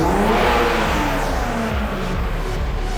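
A Toyota drift car's engine revs hard and steadily close by, a loud continuous roar with shifting pitch sweeps and no pauses.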